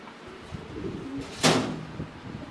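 Pakistani high flyer pigeons coo softly and close, with a sudden sharp flutter or knock just past the middle and low cooing continuing after it.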